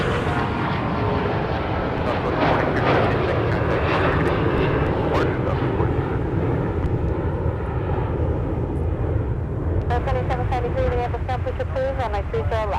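An airliner flies the downwind leg near Minneapolis–Saint Paul airport, heard as a loud, steady jet engine roar that fills the scene from start to finish, with chirpy bird-like sounds near the end.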